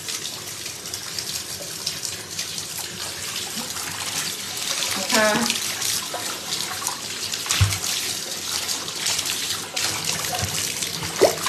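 Tap water runs steadily over a foot during foot care, a continuous hissing splash with small shifts and drips as the foot moves under the stream, and a voice speaks briefly.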